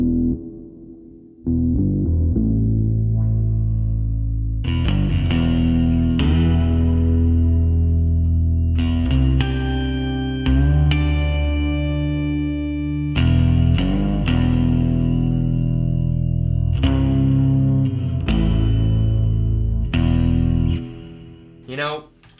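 Smooth, gliding notes from an Alembic 8-string fretless bass on the neck pickup, drenched in reverb, played as a slow melodic line with sustained tones and lingering echoes between phrases.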